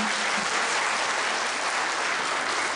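At a school end-of-year party, an audience applauds in a dense, continuous wash of clapping that holds steady and fairly loud for the full stretch, with no voices standing out.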